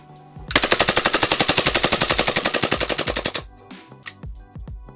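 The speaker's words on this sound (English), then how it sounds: "Let's see what it can do on a second mag's worth of BBs." A Huntsman Tactical H18c gas blowback airsoft pistol firing full auto, a loud, close, rapid burst of evenly spaced sharp cracks lasting about three seconds that slows slightly as the gas weakens, followed by a few clacks of handling.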